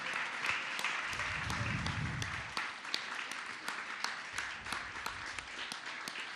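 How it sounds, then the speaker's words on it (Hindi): Sustained applause from a seated audience welcoming a trust family at a Jain religious gathering, dense and steady throughout with a low murmur of voices beneath. "आप लोग ताली बजाते रहिए"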